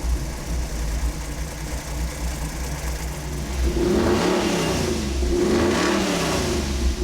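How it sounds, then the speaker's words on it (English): A big-block V8 engine, Chevy 454 or Ford 460, idles with a deep rumble, then revs up twice, its throaty roar swelling and falling, close by with no talking. "God, I love the sound of these big blocks."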